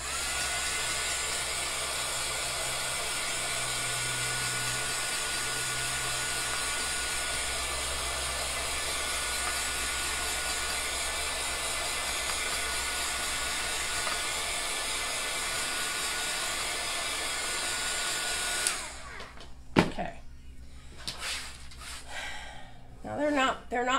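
A small handheld dryer runs with a steady, loud whirring hum for about eighteen seconds while drying chalk paste on a door tag, then cuts off into scattered quiet handling noises.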